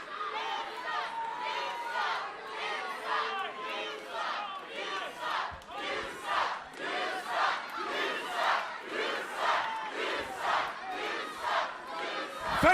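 A wrestling arena crowd booing, loud rhythmic waves of massed voices that swell and fade steadily throughout, with a few faint knocks.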